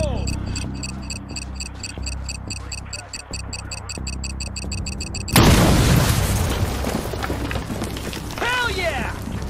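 In the Battleship video game, ordnance is blown in place with a sudden loud blast about halfway through, followed by a rumbling, crackling tail. Rhythmic game sounds and a voice come before the blast.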